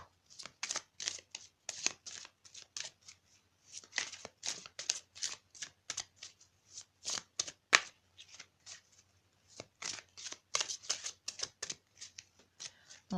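Tarot cards being shuffled in quick bursts of crisp riffling and flicking, close and steady across the whole stretch with brief pauses between runs.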